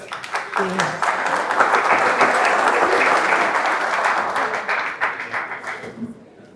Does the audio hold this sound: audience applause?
yes